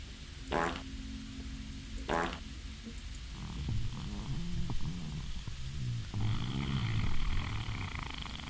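Rumbling, flatulent novelty sound from a soundboard fart button: a couple of short blasts early, then a longer wobbling, burbling rumble of moderate loudness with no talking.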